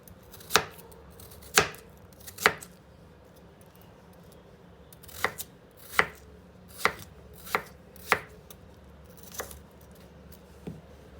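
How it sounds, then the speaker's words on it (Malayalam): A knife chops potato into small cubes on a cutting board, about ten sharp, close knocks spaced unevenly with short pauses between them. "ഇനിയും പൊട്ടറ്റോ കട്ട് ചെയ്യാം. അതുപോലെ ചെറിയ ക്യൂബുകളായി കട്ട് ചെയ്തെടുക്കാം."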